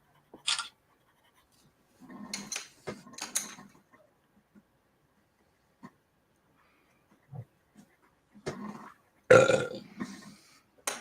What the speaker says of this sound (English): That's a Coca-Cola burp.